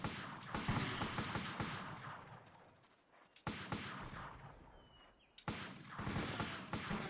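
Rapid bursts of gunfire from the video game Army Men: World War crackle in dense volleys, with brief pauses between clusters of shots and no talking.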